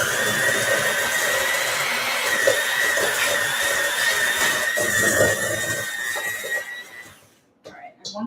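An electric mixer churns cookie dough with a loud, steady whirring drone that runs unbroken for several seconds before cutting out near the end, followed by a few brief sounds.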